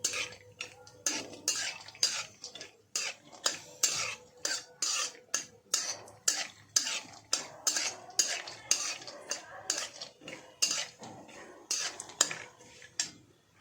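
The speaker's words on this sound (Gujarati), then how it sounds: "બદામને આ રીતે શેકી કાઢવાના ઘીમાં." Almonds roasting in hot ghee, stirred with a metal spoon that clinks and scrapes against the pan in a steady repeated rhythm, close but fairly quiet, with a faint sizzle underneath.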